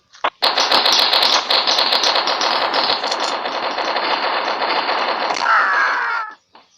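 Rapid automatic gunfire from a gun in a Minecraft-style video game, a loud, sustained burst of close shots running for several seconds before stopping abruptly.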